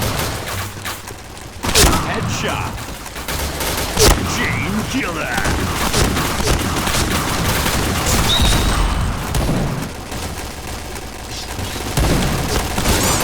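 Gunfire in the online shooter Point Blank, sharp single shots and rattling bursts with impacts scattered across the clip, under near-constant excited talk from a man.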